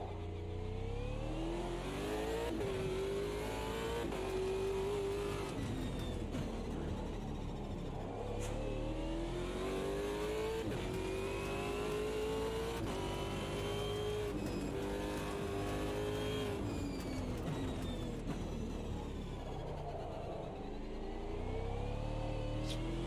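A '65 Mini Cooper S in a racing video game revs hard and continuously, its engine note climbing and falling through gear changes as it accelerates and brakes through hairpin corners, loud and alone without talk.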